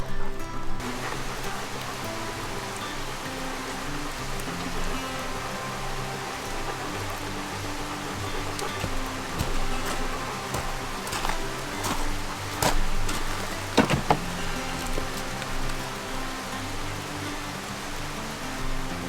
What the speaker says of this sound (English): Creek sounds amazing, beautiful, just super flow right now. A lot of bubbling, a lot of movement in the water.